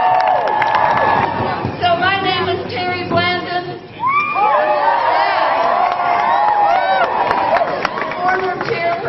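A large outdoor rally crowd cheers, whoops and shouts continuously and loudly, with someone speaking over the noise as it carries on around him.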